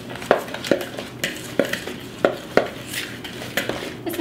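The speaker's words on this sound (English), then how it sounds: "we're just mixing the sugar and the butter together" Sugar and butter for a traditional English fruitcake are mixed in a bowl, with a spoon striking the sides in a steady series of sharp knocks and scrapes, close and fairly loud.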